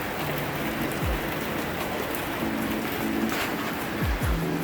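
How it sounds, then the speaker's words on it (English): Steady rain pours down outside, a dense, even wash of patter that holds at the same level throughout with no voices, on a day of riding a 2020 BMW S1000RR motorcycle. "You hear that nonsense rain?"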